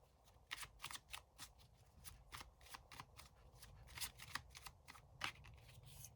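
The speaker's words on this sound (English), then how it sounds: "I'm getting that I need to pull some more of these cards for you" Oracle cards being shuffled and drawn from the deck, a run of crisp, rapid riffling bursts close up that come in quick uneven clusters over a soft background hiss, with no voices.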